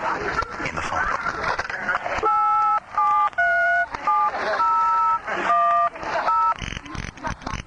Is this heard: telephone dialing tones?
yes